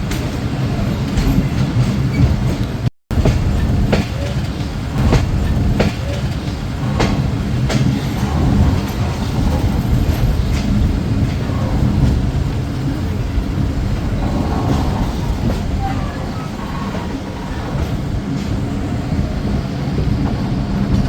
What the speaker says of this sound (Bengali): প্রবেশ করছি ট্রেনটির দ্বিতীয় যাত্রা বিরতি স্টেশন শীতলা স্টেশনে